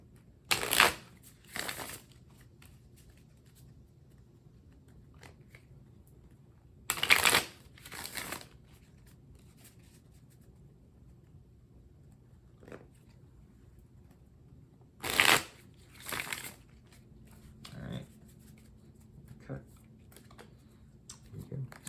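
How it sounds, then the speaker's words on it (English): Tarot cards shuffled three times in quick riffling bursts several seconds apart, close and fairly quiet, with soft background noise between. "Let me give this 3 shuffles really quick."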